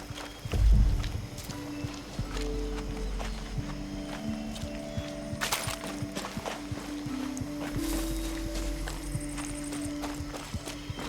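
Horse hooves clip-clop at a steady walking rhythm as a rider travels on horseback in Far Cry 6, close and clear over a low ambient game background with occasional thumps and clatter.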